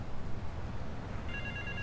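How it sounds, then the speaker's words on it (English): Late in the moment a telephone begins ringing in Grand Theft Auto III, a thin high trill emerging over rumbling game background noise. "Is it this phone?"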